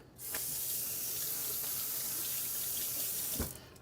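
A kitchen tap runs steadily over fresh Brussels sprouts being rinsed, a continuous close hiss of water lasting a few seconds before cutting off, with a soft clunk near the end.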